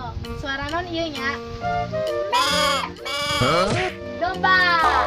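A sheep bleats repeatedly, close and clear, with wavering, quivering calls coming in a few separate bursts.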